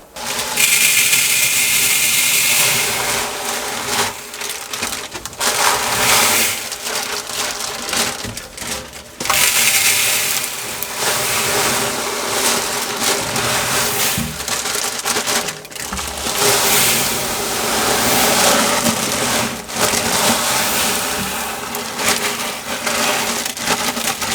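Aquarium gravel substrate pours into a fish tank in several long rattling, crunching cascades, a dense gritty rush broken by brief pauses, close and steady throughout without talk.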